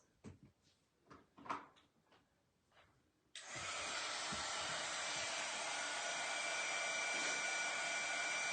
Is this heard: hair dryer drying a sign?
yes